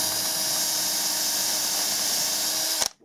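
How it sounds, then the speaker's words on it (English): A 2mm drill bit boring out pre-marked holes in white metal kit bogies, a steady high-pitched whine held for nearly three seconds, close and loud, then cutting off abruptly. "I'll just drill those out a moment."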